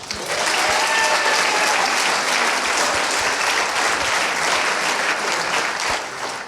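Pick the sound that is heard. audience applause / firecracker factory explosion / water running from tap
audience applause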